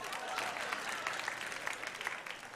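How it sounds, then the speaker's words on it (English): A church audience claps their hands at a comedy set, a lively burst of scattered, crisp hand claps with a faint murmur of crowd voices underneath. "If you're single and you know it, clap your hands."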